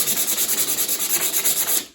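Sandpaper rubbed by hand over a wooden welcome sign, about a dozen quick, even back-and-forth strokes, loud and close with no talking, fading out at the end.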